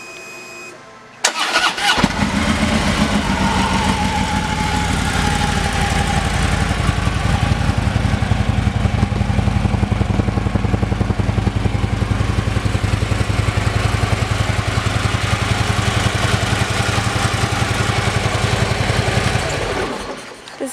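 A 2016 Harley-Davidson Street Glide Special motorcycle with 15,031 miles cranks over and fires after about a second, then settles into a loud, steady, close-up idle that runs unbroken for nearly twenty seconds before cutting off.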